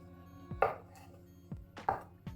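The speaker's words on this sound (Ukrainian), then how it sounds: "є яйця варені, їх нарізаю грубим кубиком." A knife chops boiled eggs into coarse cubes on a board in several separate, fairly close strikes, each a short thud with a crisp edge, spaced irregularly with quiet gaps between.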